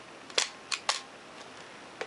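A Nikon FE film camera fires its shutter at a slow speed: a sharp click as it opens, another shortly after, a third, then a fainter click and a final one about a second later, close and crisp in a quiet room.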